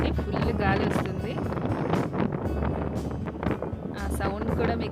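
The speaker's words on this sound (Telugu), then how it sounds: "చూడండి ఫుల్ గాలి వస్తుంది." Strong wind sweeps across the hilltop at Horsley Hills, buffeting the microphone in heavy, continuous gusts that roar loudly throughout, with faint voices in the background.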